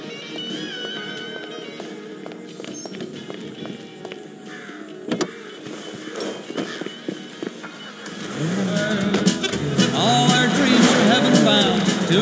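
A car driven through the world of GTA 5 during the Paleto Score setup mission, its engine humming steadily and swelling louder in the final seconds, with game sounds around it.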